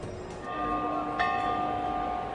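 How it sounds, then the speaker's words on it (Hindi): A bell rung to start a T20 cricket match between India and West Indies rings out with a sustained metallic tone that rings on over a steady crowd-like background hum. "जो घंटी बजा के इन्होंने इस मैच का आरंभ किया है"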